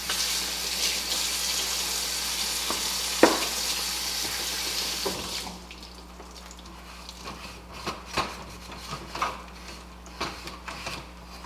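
Water runs while a Styrofoam incubator is scrubbed clean, a steady faint rush of water giving way to scattered soft scrubbing and knocking sounds, all quiet and close.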